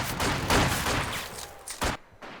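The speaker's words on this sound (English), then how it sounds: "There must be an enemy over there he's trying to fire at." Gunfire in the World War II strategy game Company of Heroes 2, several loud close bursts of rifle and machine-gun fire in quick succession, ending with a sharp final shot before a near-silent gap.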